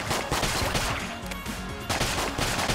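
Rapid gunfire from the twin-stick shooter Enter the Gungeon, a loud dense burst of shots and crashing impacts filling the whole moment.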